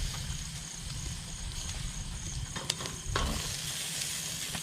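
Longganisa sausage sizzles steadily in a pan during an outdoor farm cookout, a continuous moderate frying hiss with brief stirring clatter partway through and no speech.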